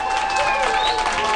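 A short, steady wash of crowd applause and cheering at a lively event, with voices mixed into the clapping.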